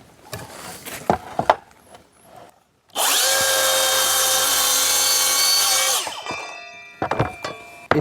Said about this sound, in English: We can just use the saw now off the rail, which I'll take that back to 20, so we're not overcutting